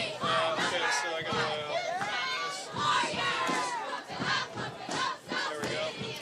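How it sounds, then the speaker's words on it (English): Crowd cheering and shouting at a high school football game, a dense, loud wash of many voices with rising yells and bursts of excitement throughout. "It's just like people cheering."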